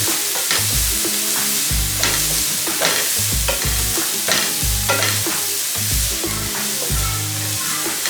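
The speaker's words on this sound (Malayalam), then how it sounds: "ഇതുകൂടെ ഇട്ട് നല്ലവണ്ണം ഒന്ന് വഴറ്റിയെടുക്കാം." Chopped onion and carrot sautéing in a pan for puttu upma, a steady sizzle with repeated stirring scrapes and clinks of a spoon against the pan, close and clear with no talking.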